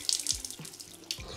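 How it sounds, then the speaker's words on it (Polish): Tap water splashes into an aquarium tank in short uneven gurgling pours, close and fairly quiet, with bubbly bursts and brief gaps between them. "Czy ta woda od razu leje się do zbiornika o zbyt wysokim pH"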